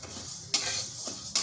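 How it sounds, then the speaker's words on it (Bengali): Dry mung dal, 200 grams, stirred in a dry wok while being roasted light red, giving a soft granular rustle with two sharp scraping strokes, close and alone. "আমি এখন মুগ ডালটা হালকা লাল করে ভেজে নেব।"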